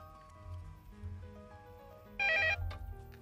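A telephone gives one short, bright ring burst over soft, low background music in a drama scene.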